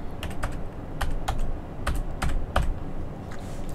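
Rapid clicks of typing on a computer keyboard, close and fairly clear, in short irregular bursts of keystrokes with brief pauses over a faint steady background.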